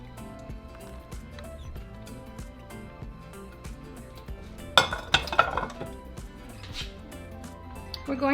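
Metal lid set onto a pan of huevos encobijados, a few close clanks and clinks of cookware over a low background hum, with no talking.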